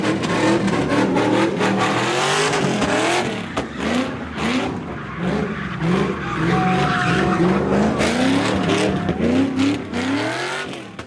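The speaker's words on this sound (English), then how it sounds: "We just doing wide donuts. It's like a mixture of both, drifting and donuts at the same time." Car doing wide donuts mixed with drifting at a Los Angeles street takeover, engine revving hard with tires squealing and skidding continuously through the whole stretch, loud and close, with crowd noise underneath.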